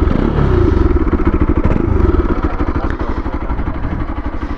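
A Bajaj Pulsar RS 200 BS4 motorcycle engine idles steadily up close, a rapid low chugging pulse that stays loud and even throughout with no talking.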